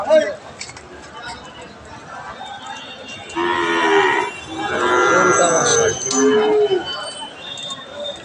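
Cattle low repeatedly at a busy livestock market where young bulls are being sold, several long, loud moos close by over a background of crowd chatter and voices.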